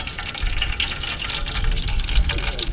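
Mixed coconut and groundnut oil poured into a pot for octopus biryani, a steady liquid splashing and trickling stream, continuous and fairly close, with no talk.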